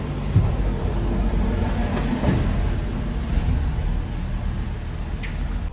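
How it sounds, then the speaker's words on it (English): Steady low rumble of the Eurotunnel car shuttle train rolling through the tunnel under the sea to France, with faint rattles and a brief high squeal, continuous and enclosed. "you drive your car into a train which goes through a tunnel under the sea"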